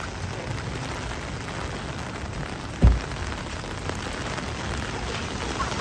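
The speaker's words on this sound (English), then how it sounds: "I mean, it's raining a lot." Heavy rain falls steadily on the streets of Midtown Manhattan, New York City, a dense continuous hiss with one brief louder thump near the middle.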